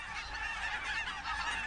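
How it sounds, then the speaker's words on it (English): Three Canada geese honk as they come in to land close by during a hunt, a continuous overlapping chorus of nasal honks at moderate volume with no talk. "So there's 3 honkers that were landing pretty close."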